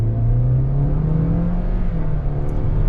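A 2023 Toyota Corolla SE with its 2-liter engine accelerates under load. The engine drone is steady and strained, rising slowly in pitch and close to the cabin for about three seconds, with no talk over it.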